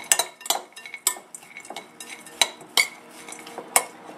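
A spoon mixes eggplant stuffing seasoned with salt and pepper in a bowl, giving a quick, uneven run of metallic clinks and scrapes against the bowl, close and clear with no voices.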